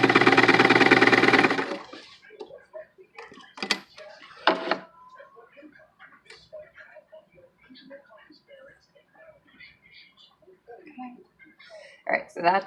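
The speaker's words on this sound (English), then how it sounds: "Told you guys my sewing machine has had it with me today." A home sewing machine stitches fabric for a face mask in a quick whirring burst lasting under two seconds, followed by quieter rustling, handling noises and brief bumps.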